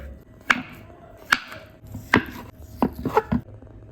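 Boiled potato chopped with a knife on a board, giving six or seven sharp, close knocks at uneven intervals, alone with no talking.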